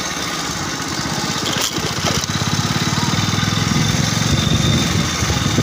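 A ferry launch arriving from Howrah chugs steadily at a riverside ghat, its engine a loud, continuous low throbbing that grows slightly stronger and more pulsing toward the end, with no voices.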